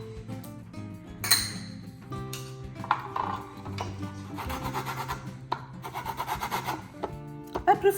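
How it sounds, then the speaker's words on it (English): Orange peel rubbed against a zester in a home kitchen, giving a steady, close rasping and scraping with a few light clinks of metal or glass. "I'm going to zest an orange."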